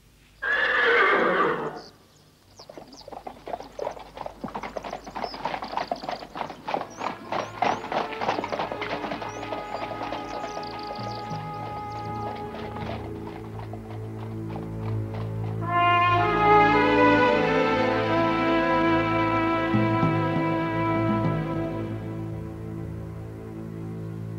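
A horse in a radio drama lets out a loud, shrill whinny, then its hooves clip-clop in a steady, quickening rhythm as it sets off. A second long neigh and fuller background sound take over near the end.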